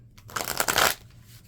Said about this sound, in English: So let me shuffle a little bit and keep pulling.